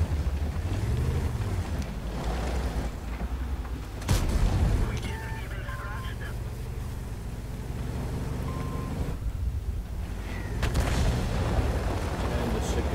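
Artillery fire sounds in the World of Tanks video game, with a sharp boom near the middle and another later, set against steady engine rumble from a tank.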